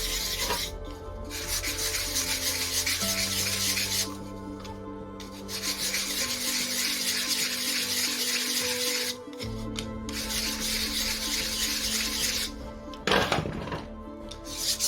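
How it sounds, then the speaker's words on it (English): Grinding a metal part of an FX Impact .22 pellet magazine: a continuous, close, abrasive rasping with steady pitch and a few brief breaks. "Apparently this is still sticking out, so I'll just grind it a little bit."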